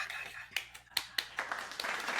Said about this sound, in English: Where's our applause button, crew? Hit the applause button.